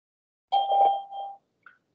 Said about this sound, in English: record a short message after the beep